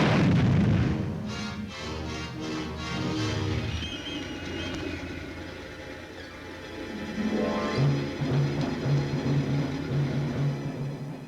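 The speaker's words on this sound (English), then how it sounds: "800, tank, fire!" A tank's main gun fires during a Canadian Army armoured exercise, setting off deep booming blasts that roll across open ground. A low droning rumble follows underneath, loud and sustained, with no voices heard.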